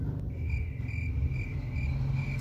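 A crickets chirping sound effect: a steady, continuous high trill running over a low background rumble, with no voices.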